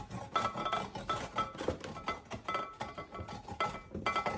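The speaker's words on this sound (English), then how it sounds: "Robbie's going to grate that carrot." A raw peeled carrot being grated by hand in a home kitchen, a busy run of rapid scraping strokes with clinking kitchenware, close and fairly loud.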